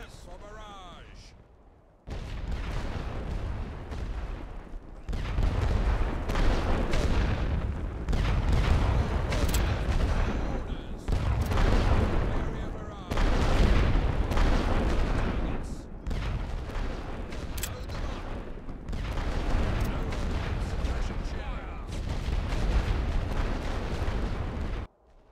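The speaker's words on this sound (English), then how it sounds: "Start the barrage." Sustained artillery barrage in the WWI strategy game Great War Western Front: continuous dense rumbling booms and overlapping gunfire rolling on for over twenty seconds after a short quieter opening, with voices mixed in.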